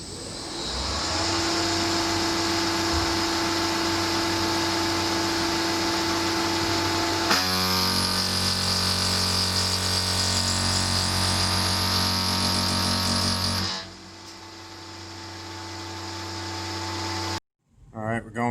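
A PM30 milling machine cuts metal at 5400 RPM with a 200-thou-deep, 600-thou-wide pass, giving a loud, steady high-pitched whine and grinding roar that shifts pitch partway through, then drops away near the end.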